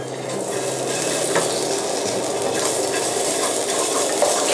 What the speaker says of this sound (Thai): ก็ลงน้ำมันมาก่อนนะครับพอประมาณ แล้วเราก็เอาพริกแกงลงไปผัด